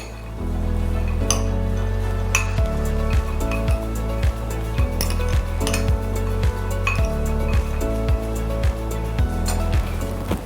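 Spoon stirring a sprout chaat mixture with salt in a metal bowl, a steady run of close, loud clinks and scrapes repeating in an uneven rhythm.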